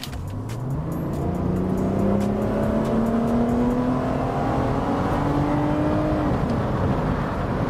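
A car engine revs hard at full throttle, pitch climbing steadily through the rpm range for several seconds, loud and close, with no voices.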